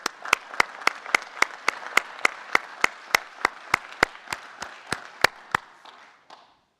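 Graduates at a Fort Leavenworth commencement receive audience applause, with loud, sharp, evenly spaced claps in a steady rhythm over a softer crowd wash, ending in a brief fade.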